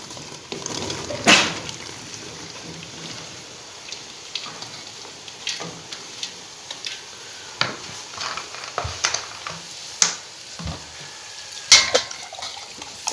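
Chicken frying in a pan as pumpkin is added for kaddu gosht, giving a low steady sizzle broken by scattered clinks and scraping stir strokes, close and moderately loud.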